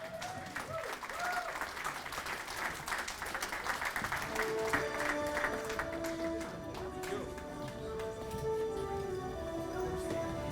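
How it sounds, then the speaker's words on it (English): A seated crowd at a media awards dinner claps steadily for the acting president, a dense sustained round of applause with faint voices and music-like tones underneath. "How about a big round of applause for our acting president"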